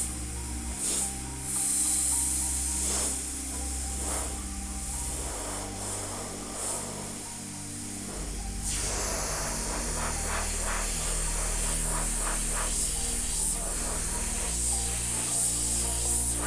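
Airbrush spraying paint onto a steel car panel, a close continuous airy hiss in several bursts of varying strength over a low steady hum.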